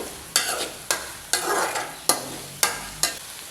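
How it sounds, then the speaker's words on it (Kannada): Chopped onions stirred in hot oil with garlic in a pan, a steady sizzle broken by six regular scraping stirs of a spoon, close and clear with no talk. "ಆಮೇಲೆ ಕಟ್ ಮಾಡಿರುವಂಥ ಈರುಳ್ಳಿಯನ್ನು ಹಾಕಿ ಇದನ್ನು ಕೂಡ ಚೆನ್ನಾಗಿ ಹುರಿದುಕೊಳ್ಬೇಕು."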